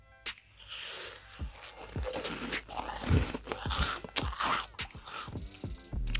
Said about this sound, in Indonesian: renyah sekali dicampur dengan coklat yang tebal.